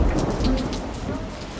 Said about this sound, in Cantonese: 忽然烏雲密布，眨下眼就行雷閃電，跟住仲落起滂沱大雨添